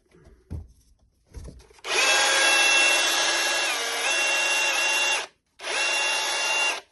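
A DeWalt cordless hammer drill in drill-only mode whirs steadily at high speed for a few seconds, stops briefly, then spins up again, close and loud after a couple of light knocks.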